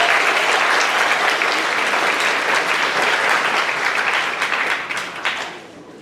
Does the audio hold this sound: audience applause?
yes